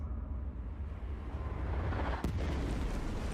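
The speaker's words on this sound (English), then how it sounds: "Good explosion, everybody" A rumbling explosion in the video game Space Marine 2 swells into a deep, sustained roar, with a sharp crack partway through over continuing low thunder.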